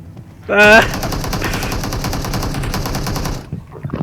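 Automatic gunfire in PUBG Mobile crackles in a dense, sustained burst lasting about three seconds, with a voice speaking briefly at the start before the shooting settles into a steady rattle.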